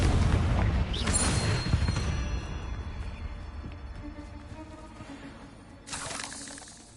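A Confringo blasting spell explodes in Hogwarts Legacy on PS5, with a loud burst and rumbling boom at the start that fades into a low rumble, then a second sharp crack and blast near the end.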